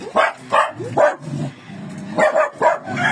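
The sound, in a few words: dog barking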